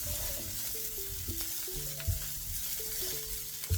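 Sausages and garlic stir-frying in a frying pan over medium heat, a close steady sizzle broken by repeated clacks and scrapes of a utensil stirring, with no talking.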